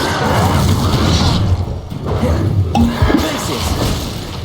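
A Confringo blasting spell explodes in the video game Hogwarts Legacy, a loud booming blast with rumbling debris and crackling impacts, layered with game effects and a brief voice.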